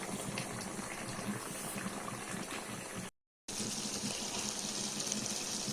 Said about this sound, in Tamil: இது நல்லா ஒரு 2 நிமிஷம் கொதிக்கட்டும்.